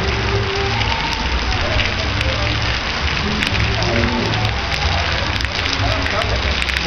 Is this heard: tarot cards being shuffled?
no